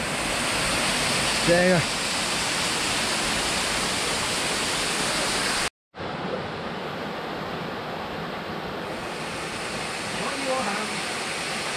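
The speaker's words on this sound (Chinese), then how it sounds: "呢條瀑布" A mountain stream waterfall roars in a constant, loud wash of white noise that briefly cuts out midway, with short spoken exclamations rising above the rush.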